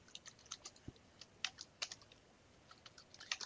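Quiet, close typing of a code comment on a computer keyboard: irregular light key clicks in short bursts with a few brief pauses, no voices.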